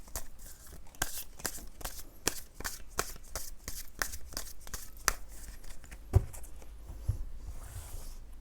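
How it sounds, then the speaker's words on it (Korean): Tarot cards shuffled and drawn for a reading: a rapid series of crisp card flicks and riffles up close, then a few sharper taps and slides as cards are pulled and laid down, with no talking. "제가요 추가 카드 뽑아본 다음에 나머지 리딩 해보도록 할게요."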